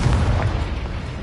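A Confringo spell explosion in the Hogwarts Legacy video game: one short, loud, booming burst with a low rumbling body, heard alone.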